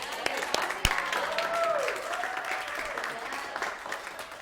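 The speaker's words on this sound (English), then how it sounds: "Let's give a round of applause." Audience applause fills a lecture hall with steady broadband clapping, moderately loud and sustained, with a sharp louder clap near the start and faint voices mixed in underneath.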